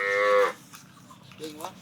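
Cattle moo at the Kannapuram livestock market held for the temple car festival. One long, loud, close moo is followed by a shorter, fainter call over a low background murmur.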